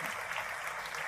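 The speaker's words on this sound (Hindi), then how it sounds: "तालियां कम थी, ये तो पुरुषों को बजानी चाहिए।" Audience applause at a Hindi comedy poetry gathering, a brief burst of moderately loud, dense clapping from a seated crowd.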